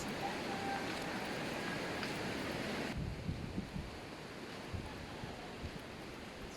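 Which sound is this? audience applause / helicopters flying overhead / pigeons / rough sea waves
rough sea waves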